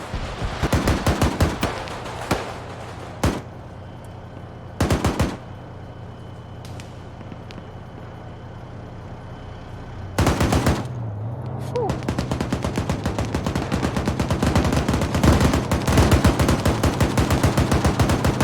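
Rapid bursts of machine-gun fire crackle in and out in an Arma 3 convoy battle, with sharp louder .50 cal volleys and steady distant gunfire over a low rumbling background.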